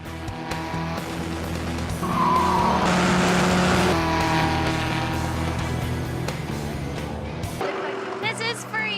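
Race car accelerating back onto the track after a spin-out, its engine roaring loudly and continuously with harsh tire noise, up close and under talk, before cutting off abruptly near the end.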